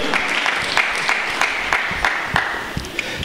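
A church congregation breaks into sustained, even clapping during a French-language worship service. The applause carries a steady crackle and continues without pause.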